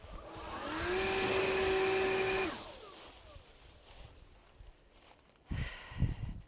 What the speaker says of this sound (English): I might go grab that Milwaukee handheld blower too